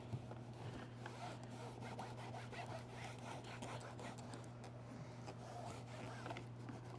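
Detailing brush scrubbing a car's interior surface with an all-purpose cleaner: faint, steady bristly rubbing strokes over a constant low hum, with no talking.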